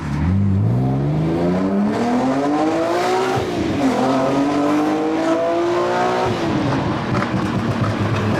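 BMW E46 M3 engine revving hard through the gears in sport mode, loud and close, rising and falling in pitch with crackling pops on lift-off, continuous for the whole stretch.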